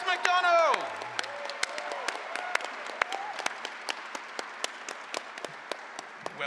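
A crowd at a PAX convention debate session applauds and cheers loudly as the debaters are introduced, with dense sustained clapping and a few sharp claps, while a host's voice speaks over the start.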